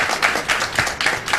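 Hand clapping in a studio setting, several loud claps in an uneven rhythm, roughly one every quarter second, close and fairly strong with a faint murmur behind.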